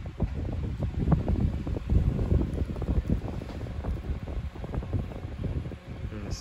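A Westinghouse 16-inch pedestal fan runs steadily nearby, giving a continuous whooshing airflow with a low rumble and a faint high whine throughout, with no one talking.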